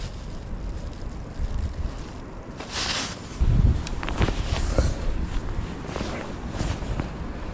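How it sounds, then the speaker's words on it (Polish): Strong wind blowing outdoors at a waterside spot while fishing for roach with a pole, a steady rushing roar with gusts and buffeting against the microphone, plus some faint splashing and knocks. "ale wieje, znosi wszystko"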